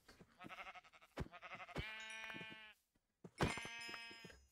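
Sheep bleat repeatedly in a blocky survival video game, a few drawn-out wavering calls with short gaps between them, fairly close and clear with no talking over them.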